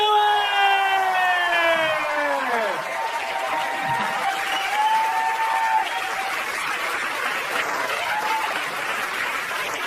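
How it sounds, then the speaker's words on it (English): A New York stand-up comedy crowd welcomes Amy Schumer in 2021 with loud, sustained applause and cheering. Gliding tones open the moment, then a thick, continuous wash of clapping carries on to the end. "Put your hands together for Amy Schumer!"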